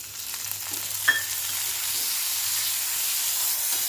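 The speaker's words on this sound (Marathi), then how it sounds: "थोडस तेल टाकूया कांदा थोडस परतून घेऊया कांद्यासोबत एक बारकं टमाटर भाजून घेऊया" Chopped onion and a small tomato fry in oil in a pan, giving a steady close sizzle with a low hum beneath and one brief clink of a utensil.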